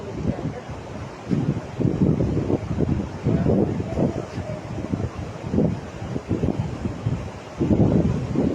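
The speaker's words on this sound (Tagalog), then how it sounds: "Kaso mahangin." Gusty wind buffets the microphone in repeated rough bursts while hook fishing by the water, loud low rumbles rising and falling, with faint water or surf sounds underneath.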